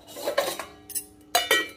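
A lid is set on a cooking pot with several close metallic clanks and rattles in quick bursts, short quiet gaps between them, and no voice.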